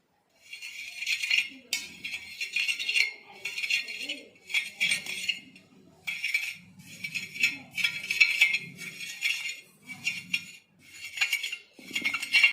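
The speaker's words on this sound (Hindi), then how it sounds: "इसे इस तरह से किसी चम्मच इत्यादि से थोड़ा बारीक कर लिया जाए, मसल लिया जाए" A spoon crushes burnt ash into powder inside a vessel. Rhythmic bursts of metallic scraping and clinking repeat about a dozen times, close and distinct, with short pauses between strokes.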